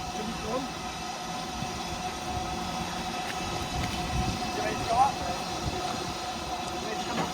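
A heritage railway locomotive hums and rumbles steadily at a moderate level, with people talking nearby over the low mechanical drone.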